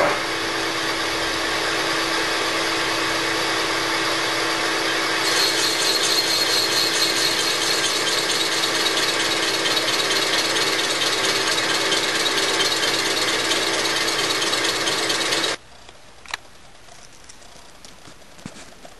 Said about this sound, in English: now I'm going to machine the base so that we don't have any problem with the head interfering